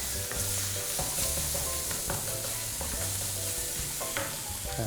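Garlic fries in oil in a wok for curry-powder shrimp fried rice, a constant close crackling sizzle broken by the repeated scrape and clank of a spatula stirring.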